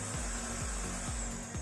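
A Puppyoo A9 cordless vacuum cleaner runs in turbo mode, a steady close motor whine with a high tonal hum that holds evenly throughout, with faint periodic low pulses underneath.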